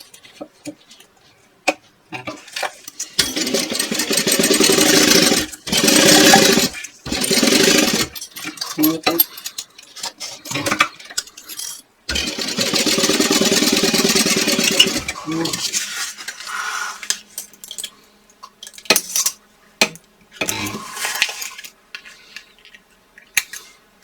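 Sewing machine basting a zipper across the top of a bag panel at a narrow seam allowance, with two longer bursts of fast stitching separated by short pauses, clicks and handling noises, with little talk.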